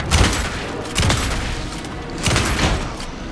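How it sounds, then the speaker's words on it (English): Gunfire in the video game Alan Wake 2 comes as repeated loud bursts, three or four clusters of shots with booming impacts spaced about a second apart, heard without talk. "Anderson, pin him down with gunfire for me to get the light on him"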